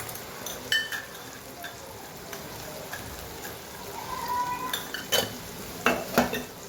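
Sugar goes into a pan and is stirred, with a spoon scraping and clinking against the metal in uneven bursts, several sharper knocks near the end over a steady low background.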